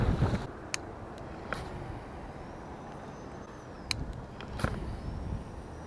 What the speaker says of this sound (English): Man, it's windy out.